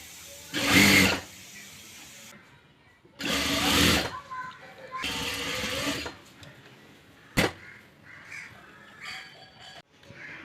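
A sewing machine stitches a churidar sleeve onto the shoulder seam in three separate loud whirring runs with quiet pauses between them, plus a sharp click and faint mechanical rattles near the end.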